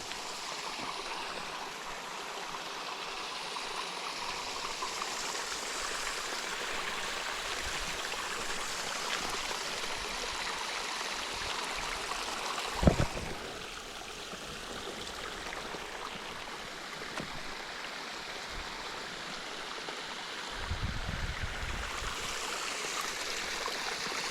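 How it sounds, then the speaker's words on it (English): A stream rushes steadily nearby at a trail crossing in the Smoky Mountains at night, a constant broad hiss of flowing water with a brief thump partway through. "I did not remember this water crossing at all. I could hear it"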